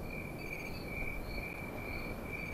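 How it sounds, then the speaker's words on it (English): A cricket chirps in a steady, continuous high trill, faint and even throughout the short stretch with no voices, set in a Garry's Mod game map. "That's a cricket."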